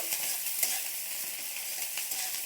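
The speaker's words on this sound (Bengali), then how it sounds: "দিয়ে দিচ্ছি পেঁয়াজ কুচি, রসুন কুচি, লঙ্কা কুচি। এগুলো একটু ভালো করে ভেজে নেব।" Chopped onion, garlic and green chili fry in oil, giving a steady soft sizzle with light stirring scrapes throughout, fairly quiet and with no voices.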